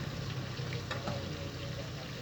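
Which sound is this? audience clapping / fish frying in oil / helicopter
fish frying in oil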